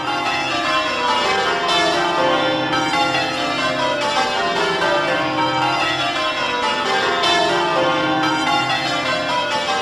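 Church bells of St Mary-le-Bow in the City of London ring steadily, their overlapping tones sustained and resonant throughout, with no voices.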